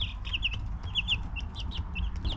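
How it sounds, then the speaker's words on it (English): A flock of young White Cornish meat hens gives a busy stream of high peeping chirps and clucks over a low steady hum from the brooder, fairly close, without voices. "We bought 100 White Cornish chickens"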